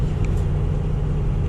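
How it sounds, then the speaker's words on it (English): A truck engine runs steadily nearby, a continuous low rumble that holds level throughout with no talk. "got the truck running. Sorry for the noise."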